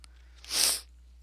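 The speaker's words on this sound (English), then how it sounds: "Sorry about the sniffles." One quick, sharp nasal sniff up close, a short airy hiss against a quiet background with a faint steady hum.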